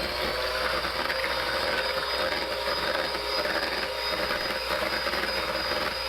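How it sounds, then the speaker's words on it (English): Whisk beating banana cake batter in a mixing bowl, a steady continuous rapid scraping and clattering that runs loud and unbroken throughout, with no voices. "After adding everything together, I will whisk until it's well combined."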